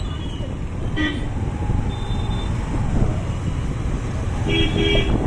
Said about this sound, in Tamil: என்னடா இவ்வளோ டிராஃபிக்காக இருக்குது